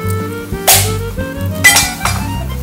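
A germinated coconut is struck to crack it open: two or three sharp, bright cracking impacts ring out over a low steady hum, close and loud, with no talking.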